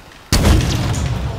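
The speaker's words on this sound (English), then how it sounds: "Why am I shooting a rocket launcher that high?" A rocket launcher fires in the Halo video game, one sudden loud booming blast that cuts in out of near-silence and then rolls into a long, heavy rumble that fades only slightly.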